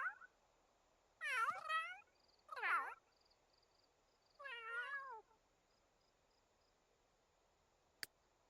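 A pet cat meows in The Sims 3 game, three separate drawn-out meows spaced a second or two apart over a quiet background, then a single sharp click near the end.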